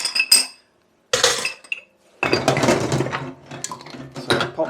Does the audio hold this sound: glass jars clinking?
yes